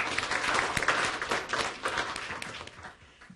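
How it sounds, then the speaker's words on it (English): A small webinar audience gives a brief round of applause, with dense clapping that swells and then tapers off within a few seconds. "give everybody from those units a quick round of applause"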